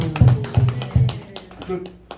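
Clapping from a church congregation comes through as a few distinct rhythmic claps mixed with a voice, moderately loud and close, thinning out toward the end.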